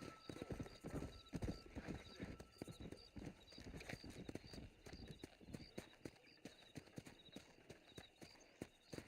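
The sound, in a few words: horse galloping, clip-clop hooves, in video game Red Dead Redemption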